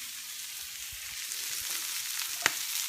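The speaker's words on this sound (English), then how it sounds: "what's sizzling are the Brussels sprouts" Brussels sprouts sizzle in brown butter in a pan, a soft, steady frying hiss with a single sharp tick near the end and no talking.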